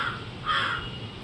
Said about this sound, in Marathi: आमचे पाहुणे मंडळी कावळे वगैरे ओरडत आहेत